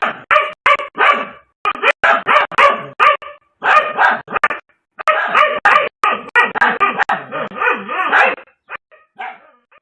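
Several dogs attack and kill a cobra, barking loudly and close in rapid, overlapping bursts with sharp yips and brief gaps, and no talking.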